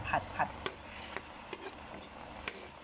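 Meatballs stir-fried with seafood dipping sauce in a pan: a faint, soft sizzle under a few sharp scrapes and clinks of the spatula, spaced irregularly.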